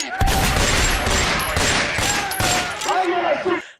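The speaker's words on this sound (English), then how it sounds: "That's their sound effect. Gunshots." A rapid burst of gunfire used as a sound effect, dense repeated shots crackling loud and close for several seconds, with a voice briefly audible near the end.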